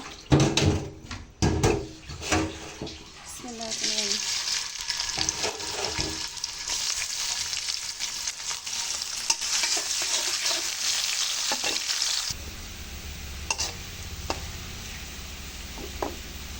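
Onions dropped into hot oil for a bottle gourd and prawn curry burst into a loud, continuous sizzle after some clattering, frying steadily for several seconds before the hiss drops off abruptly.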